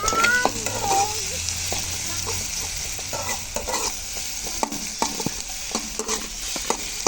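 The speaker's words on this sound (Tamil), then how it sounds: "சஷ்மிதா, அம்மா கிண்டுறேன், போ. வெங்காயம் நல்லா வணங்கிடுச்சுங்க." Chopped onions fry in a pan at home as a spoon stirs them, giving a steady close sizzle broken by frequent scraping and clinking strokes against the pan.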